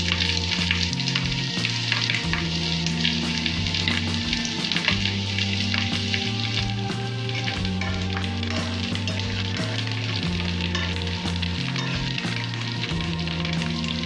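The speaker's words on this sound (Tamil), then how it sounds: "வெங்காயம் வந்து கொஞ்சம் நல்லா வதங்கணும்" Onions sautéing in oil for a vanjaram fish curry, a dense continuous sizzle with crackles and occasional stirring scrapes throughout, with music playing underneath and no speech.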